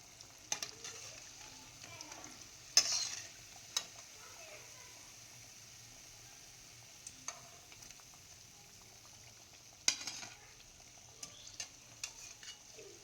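Cassava vadas (maravalli kilangu vada) frying in hot oil, a faint steady sizzle running throughout with a few sharper clicks and stirring knocks from a utensil in the pan.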